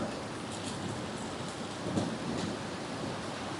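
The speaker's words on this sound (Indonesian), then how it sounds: "Hujan sobat." Steady heavy rain hisses over the whole stretch, with a soft roll of thunder rising briefly midway and no voices.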